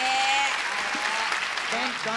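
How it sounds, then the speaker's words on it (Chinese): A studio audience on a TV variety show breaks into a short burst of clapping, a dense, even applause that is close and fairly loud. "来，我们掌声"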